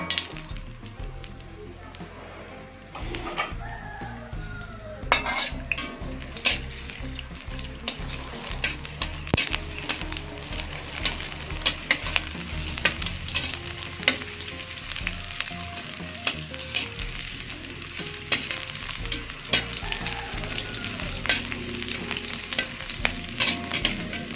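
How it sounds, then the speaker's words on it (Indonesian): Shallots sautéing in hot oil for an Acehnese white chicken curry: a steady, close sizzle runs throughout, broken by the scrape and light clink of stirring. "Panaskan minyak. Kita tumis bawang sampai mengharum."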